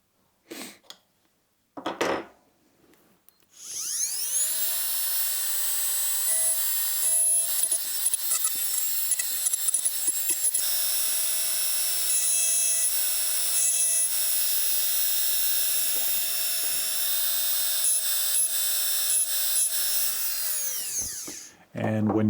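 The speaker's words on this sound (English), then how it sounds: "when you're done with your motorized deburring, you can always come back with stones and refine your deburring" A motorized deburring tool works a metal workpiece in a shop, a steady high-pitched whining grind lasting nearly twenty seconds, preceded by a few short clicks and taps.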